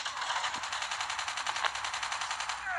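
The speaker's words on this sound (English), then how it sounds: "this guy is gonna blast and shoot. Oh, you think you can shoot me?" Rapid automatic gunfire in a Call of Duty match, a steady fast stream of sharp shots lasting nearly three seconds, loud and close with no talking over it.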